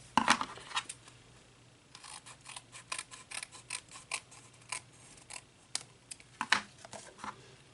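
Scissors trimming cardstock and paper for a handmade Father's Day card, giving a series of crisp snips and small clicks, some louder near the start, spread irregularly across the clip with no talk.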